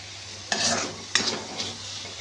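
Onion and tomato sautéing in a pan for masala pav filling, with a steady soft sizzle and two or three distinct scraping stirs of a spoon against the pan, no talk.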